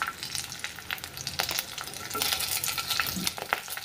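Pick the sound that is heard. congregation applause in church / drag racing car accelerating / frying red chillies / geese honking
frying red chillies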